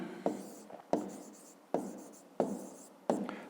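Chalk or pen strikes a board during a fifth-grade maths exercise, making five sharp taps spaced apart, each trailing into a brief scratch, close by with quiet surroundings.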